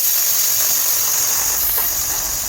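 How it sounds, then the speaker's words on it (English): Steady loud hiss of steam venting from the valve of a Micromatic pressure cooker, a constant rushing release with no pauses or talk. "Watch the valve drop. See? And all the steam came out."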